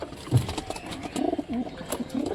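Pigeons coo at their nest in a loft, giving several soft, low, throaty calls in a broken rhythm, close by with no talking.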